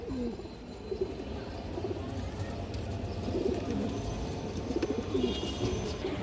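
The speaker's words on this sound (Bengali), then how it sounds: "খুব সুন্দর কবুতর" Pigeons coo softly in low repeated phrases, with rustling and a faint murmur of voices in the background.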